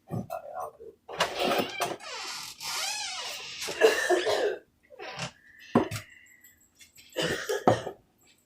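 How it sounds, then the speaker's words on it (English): Several coughs and some throat clearing in a home kitchen during holiday cooking, scattered in bursts across the clip, close and fairly loud, with short gaps of quiet between them. "now that you've coughed in it"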